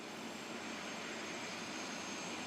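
A small airplane's engine drones as a steady, even roar heard from inside or close by, with no speech, in an alpine glacier region.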